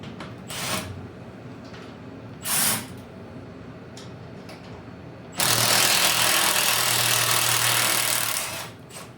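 A small Milwaukee cordless power tool running in cold weather on a Chevrolet C10 transmission job: a few short buzzing bursts, then a sustained loud whirring run of several seconds that tapers off at the end.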